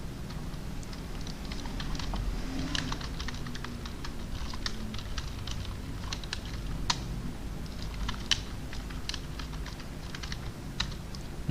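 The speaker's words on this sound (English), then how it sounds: "start typing" Rapid, irregular typing on a computer keyboard, with steady close clicks and a few sharper keystrokes standing out over a faint background hum, no voices.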